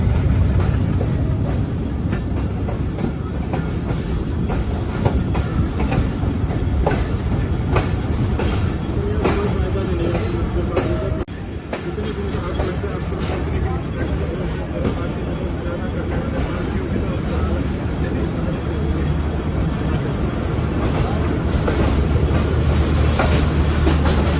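The Khyber Mail train rumbles along the rails at close range in a loud, continuous roar with rhythmic clatter from the wheels, and voices are faintly heard in the carriage.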